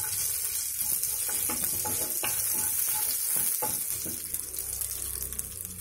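Mustard seeds, cumin, urad dal, a dried red chilli and curry leaves crackle and sizzle in hot oil in a pan, a continuous close frying hiss broken by small pops and stirring scrapes.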